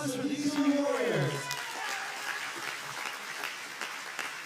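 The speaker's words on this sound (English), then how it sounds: "Let's give a round of applause for these two warriors" Audience applause for two boxers after an amateur bout, clapping and some cheering that swells then settles, with a voice over the start.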